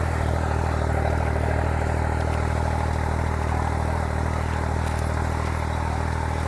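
A Mahindra tractor engine, either the 5620 CRDi or the 3630 TX Plus, runs at a steady, loud idle with an even diesel clatter throughout and no voices.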